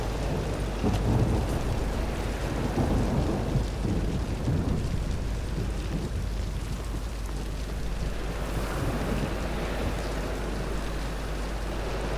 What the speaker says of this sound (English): First time I've seen a lightning storm in this game.